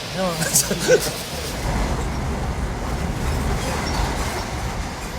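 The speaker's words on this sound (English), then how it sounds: "Eddie Barr's train has arrived in Dundee" A train pulling into the station at Dundee in Scotland, a steady low rumble of rolling wheels with light clatter, with brief voices at the start.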